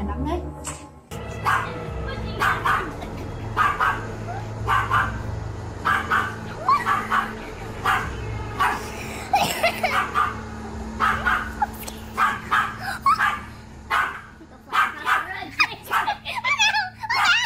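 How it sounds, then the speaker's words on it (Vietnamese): A dog in a dark room barks over and over, sharp yips and woofs coming in uneven bursts with brief whimpers between them, close and fairly loud. "hiện tượng chó sủa ma"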